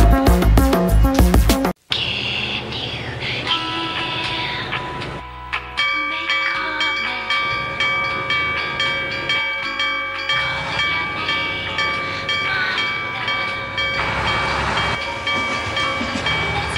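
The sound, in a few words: train passing a railway crossing in a JR East commercial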